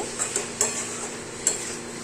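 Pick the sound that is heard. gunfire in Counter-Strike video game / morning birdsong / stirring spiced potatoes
stirring spiced potatoes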